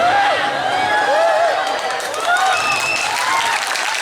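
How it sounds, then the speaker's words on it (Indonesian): A crowd at an Islamic religious gathering applauds with dense, steady clapping that holds at an even loudness from start to end. "Tepuk tangan untuk Banser."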